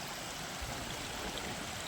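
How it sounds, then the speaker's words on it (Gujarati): Water rushes strongly over a road crossing of a stream near Jampar, making a steady, dense, broadband roar that stays even throughout the short stretch, with no voices. "પાણી ફૂલ જાય છે"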